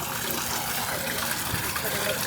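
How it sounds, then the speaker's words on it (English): A small waterfall in a garden at Epcot's Flower & Garden Festival, giving a continuous, close, rushing trickle of water that fills the whole stretch evenly, with no breaks or other sounds standing out. "You know, you've got the little waterfall here."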